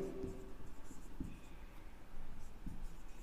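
Pen writing on paper while a math problem is worked out, quiet scratchy strokes with a few soft taps, close and faint with no speech.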